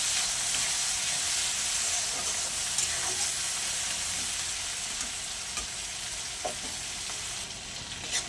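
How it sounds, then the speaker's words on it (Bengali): Prawns fry in hot mustard oil in a kadai, giving a continuous dense sizzle with scattered pops and crackles, close and steady throughout. "তেলটা আমার গরম হয়ে গেছে, মাছগুলো আমি ভেজে নেব।"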